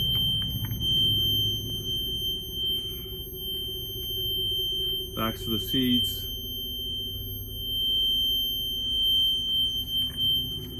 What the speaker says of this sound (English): In the back here, emergency alarm working.